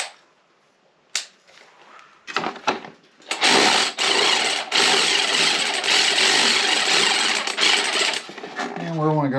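Bolts on the cover of a Toro Recycler 22 lawn mower are tightened with a hand tool, giving sharp metallic clicks followed by several seconds of continuous loud ratcheting scraping, with some talk nearby.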